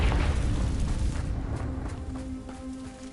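A blasting-spell explosion in the video game Hogwarts Legacy, a loud boom that opens the clip and then rumbles and decays over a few seconds.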